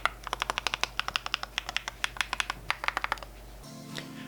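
Brisk typing on a NuPhy Halo65 HE keyboard with a metal top frame and plastic bottom, giving a quick, even run of crisp, close keystrokes that stops abruptly near the end.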